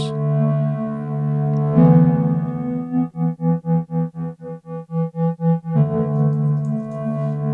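A sustained synth drone pad with steady harmonic layers; midway it briefly pulses rhythmically before returning to a smooth, even tone.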